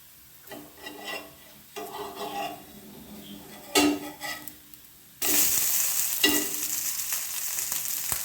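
A rice-flour roti fries on an oiled griddle with soft scraping and clinks at first, then a loud steady sizzle breaks out as oil is poured over it and keeps hissing to the end.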